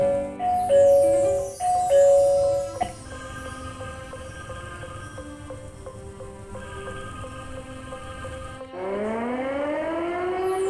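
An LED bulb device with Bluetooth-controlled sound alerts plays electronic tones: two ding-dong chimes, then a steady warbling alarm tone, and finally a rising and falling siren sweep, loud and alone.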